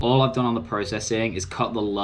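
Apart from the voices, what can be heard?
No everyday noises stand out.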